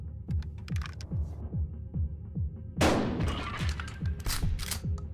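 Loud, sudden shotgun blast in the Buckshot Roulette video game, ringing out after a run of regular low thumps and clicks, with a busy tail of sharp impacts after it.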